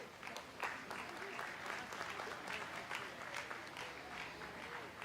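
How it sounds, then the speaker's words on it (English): Steady applause from a county fair livestock show crowd fills the whole stretch, a dense patter of clapping hands at moderate volume with no pauses. "let's give these exhibitors a big round of applause."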